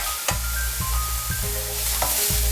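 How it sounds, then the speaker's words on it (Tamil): Onions sauté with a little salt in a pan for soya chunk curry, giving a loud continuous sizzle broken by several dull knocks of a spoon stirring, with no voice. "சிறிதளவு உப்பு சேர்த்து வெங்காயம் வதக்கிறத கொஞ்சம் கூட சீக்கிரமாக நடக்கிற மாதிரி பண்ணுறோம்"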